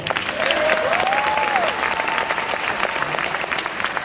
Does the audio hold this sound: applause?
yes